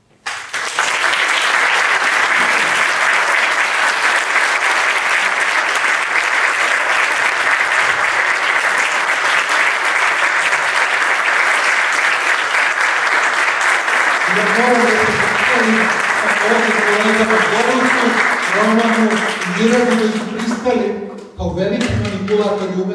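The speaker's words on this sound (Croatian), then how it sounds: "Ja gledam aplauz za njih." Sustained audience applause after an academic lecture at a museum of contemporary art, dense and steady clapping filling the room for about twenty seconds, with voices emerging near the end as it fades.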